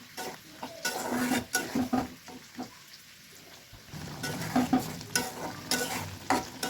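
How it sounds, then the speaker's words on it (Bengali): Lentil dumplings (bori) being stir-fried with turmeric and spices in a pan, a steady sizzle broken by repeated scraping stirs of a spoon against the metal, close and fairly loud with no talking. "এই যে সুন্দর করে বড়িটা মশলার সঙ্গে কষিয়ে নেব।"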